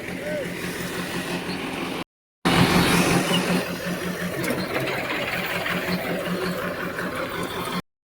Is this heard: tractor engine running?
yes